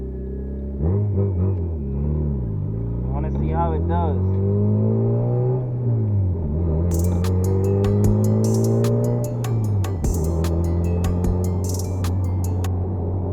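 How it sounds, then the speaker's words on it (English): A turbocharged Honda Civic's engine hums and rises through gear changes as it accelerates on a highway, with a brief spoken line over the steady road rumble. "I'm about to take this car on the highway for the first time."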